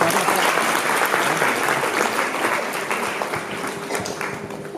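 Guests at a first death anniversary memorial for Kusumben applaud together in a steady, dense round of clapping that holds for several seconds before easing off slightly.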